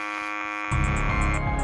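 An end-of-match buzzer at a FIRST Global robotics challenge sounds as a sustained, tonal electronic drone, joined midway by a louder, harsher blast with pulsing beeps over a busy arena.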